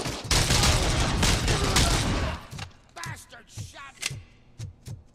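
Rapid gunfire from RoboCop Rogue City, a dense loud fusillade for over two seconds, then a handful of separate heavier shots spaced roughly half a second apart, with brief game voices mixed in.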